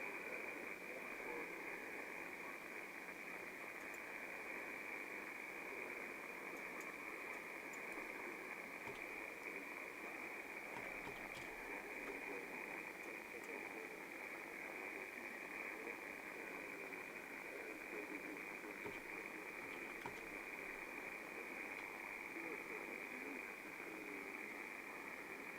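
A distant ham radio station's signal fades down into steady shortwave static hiss, a flat band-limited noise floor carrying faint traces of the transmission.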